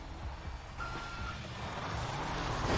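A truck backs up in GTA V, its reversing beeper sounding steadily over a low engine rumble that gradually swells louder.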